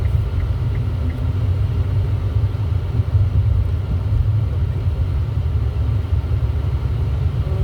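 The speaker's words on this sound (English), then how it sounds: "I think it is a potato chip truck." A delivery truck carrying potato chips rumbles past with a deep, steady low drone that holds evenly for several seconds, with no talk over it.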